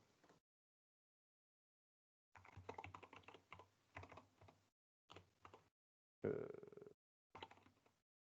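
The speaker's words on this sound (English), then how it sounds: "Done typing." Computer keyboard typing comes in several separate bursts of rapid clicking keystrokes, close and fairly quiet, with short silent gaps between runs.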